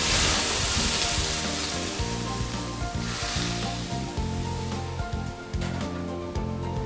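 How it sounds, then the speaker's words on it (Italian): Scorpionfish pulp cooking in olive oil with garlic and parsley stems hisses loudly as a splash of dry white wine hits the hot pan. The bubbling sizzle stays close and steady throughout, with no voices over it. "Sfumiamo col vino bianco."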